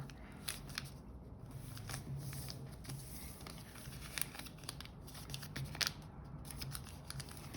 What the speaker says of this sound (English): we're going to fold the sides in as we would do a traditional Masu box